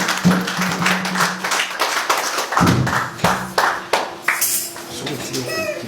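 A church congregation claps in praise, with sharp, rhythmic hand claps carried over voices and singing throughout.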